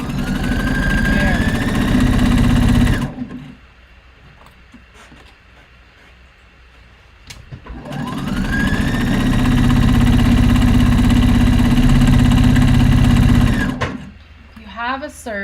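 A sewing machine stitches a zigzag seam in two long, loud motor runs separated by a pause, with a voice speaking in the gap and at the end.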